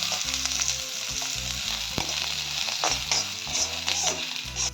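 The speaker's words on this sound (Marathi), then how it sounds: "एक चमचा तेल घालून आपल्याला कांदा चांगला भाजून घेऊ। कांदा चांगला लाल होईपर्यंत भाजा।" Onion sizzling in a spoonful of hot oil while being fried until red for a Malvani chicken dish, a steady close crackle with a few spoon scrapes, no talk, over soft background music.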